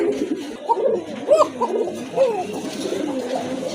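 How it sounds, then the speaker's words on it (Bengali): A pair of coka pigeons coo repeatedly and clearly up close, with rolling, throaty calls rising and falling in short phrases. "কোকা কবুতর এক জোড়া সম্পূর্ণ রানিং খুব ভালো ডাকে"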